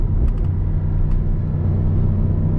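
Heard from inside the cabin, a new 585 HP Mercedes SL63 AMG rumbles with a deep, loud, steady engine drone while driving on the autobahn, with a few faint clicks over the rumble.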